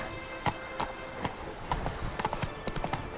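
The horse Roach in The Witcher 3: Wild Hunt (Hearts of Stone) trots with a steady, rhythmic clip-clop of hooves, close and clear throughout.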